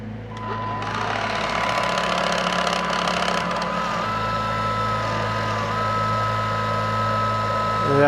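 A Bosch Series 2 vacuum cleaner with its belt slipped off starts up and runs in a loud, steady motor hum laced with rattly clicking and grinding, continuing unbroken to the end.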